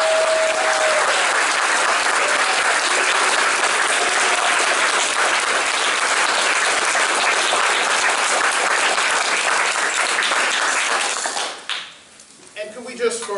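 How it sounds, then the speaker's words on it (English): Sustained audience applause at an evening rally honoring families of victims, steady dense clapping and crowd noise for about eleven seconds before dying away as a voice starts. "We give Mrs. Young, Mr. Heyward, and Joshua another round of applause."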